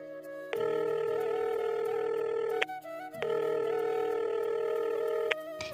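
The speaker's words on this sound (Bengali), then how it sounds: "হঠাৎ টেলিফোনে রিং হলো।" A telephone rings indoors in two long, steady electronic trills, each about two seconds, with a short pause between them. The rings are clear and close, with no voices.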